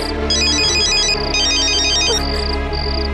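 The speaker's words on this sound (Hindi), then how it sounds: "देखिए, दोबारा फोन किया है।" A phone ringtone plays a repeating electronic melody of bright chiming notes, loud and steady over a low background hum, with no talking.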